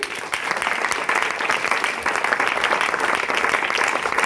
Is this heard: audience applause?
yes